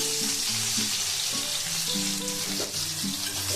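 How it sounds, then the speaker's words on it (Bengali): Garlic sizzling in hot oil in a wok, a dense, steady crackling hiss throughout with faint tonal hum beneath, close and continuous. "নেড়ে চেড়ে রসুন ফোড়ন দিয়ে দিলাম।"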